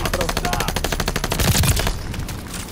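Rapid automatic gunfire in a video game, a long run of evenly spaced loud bursts that stops abruptly near the end, followed by quieter shots.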